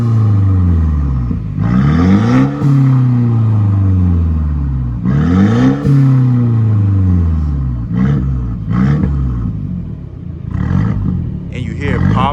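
A Mercedes C300 engine fires up and revs hard, with repeated rising and falling roars swelling several times, loud and close, mixed with bursts of voices talking nearby.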